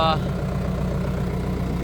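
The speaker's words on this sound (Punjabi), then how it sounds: "ਟਰੈਕਟਰ ਕਰ ਲਿਆ ਸਟਾਰਟ" A tractor engine idles after starting on a farm during potato harvesting on a rainy day, a steady low rumbling drone with a short voice at the very start.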